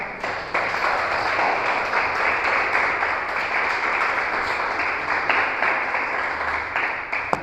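A church congregation applauding, a dense, sustained round of clapping from many hands that holds steady for several seconds.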